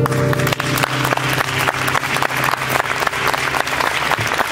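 Audience at an evening event in Naples bursts into sustained applause after a speech, dense continuous clapping from a large crowd, loud and even throughout with no voices on top.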